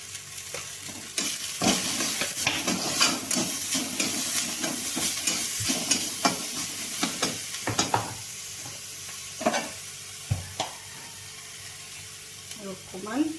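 Potatoes frying with salt and spices in a home-kitchen pan for vada pav: a steady sizzle runs throughout, broken by frequent scraping and clattering stirs, with faint speech in the background.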